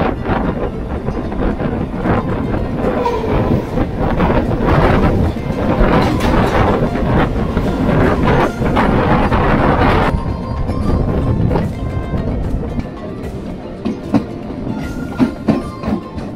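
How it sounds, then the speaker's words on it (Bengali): A local train on the Sealdah–Namkhana line pulls into a station, its loud, close rumble and rattling wagons filling the air for about ten seconds before easing to a quieter clatter. "এই যে ট্রেনটা আসছে, ট্রেনের ভিড়টা দেখুন যাচ্ছে"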